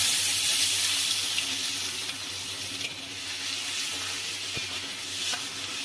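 Chopped onions frying in hot oil with bay leaves and whole garam masala for a Bengali fish curry, a steady close sizzle with faint stirring scrapes, alone without talk.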